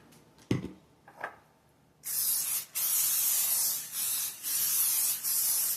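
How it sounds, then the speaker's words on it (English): A few soft clicks and rattles, then a cooking oil aerosol can sprays onto aluminum foil in several steady hissing bursts with short pauses between them, close by. "Spray everything down."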